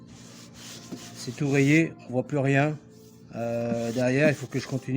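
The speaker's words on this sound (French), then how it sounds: "c'est le début du travail de ponçage et de rattrapage de la surface." A scratched, clouded car headlight is sanded by hand to resurface it, with a rasping rub that comes and goes in strokes, close and loud, while someone talks in French over the work.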